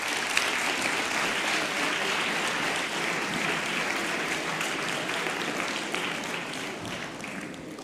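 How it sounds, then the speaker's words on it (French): A seated audience claps steadily for descendants of the Sade family at a formal French gathering, dense even applause filling the room at constant loudness throughout, with no voices over it. "je pense qu'on peut déjà les applaudir."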